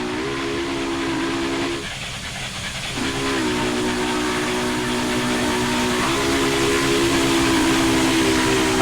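The whistle of a Union Pacific FEF-3 steam locomotive in the Train Simulator 2015 video game sounds as a long, loud, steady chord. It pauses briefly before resuming over a constant hiss of steam and train rumble.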